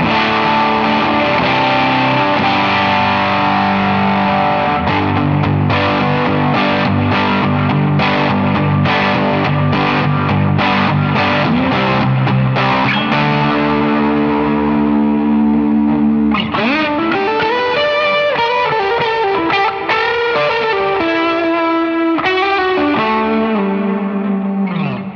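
Electric guitar on its middle pickup through a Veritas Custom Minimaster amp, heavily driven and effected, playing sustained chords and riffs with a distorted, saturated tone that shifts to brighter picked phrases partway through, loud and continuous with no talking.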